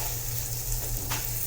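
Vegetarian taco meat sizzles in a pot on a stovetop, a constant hiss of frying that holds level through the whole stretch, with a faint clink of stirring near the end.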